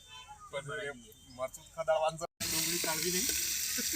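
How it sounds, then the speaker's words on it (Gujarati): A voice talks briefly, then a loud, steady sizzle of dal tempering in hot oil takes over and continues crackling. "તો મિત્રો દાળનો વઘાર કરવાનું ચાલુ થઈ ગયો છે"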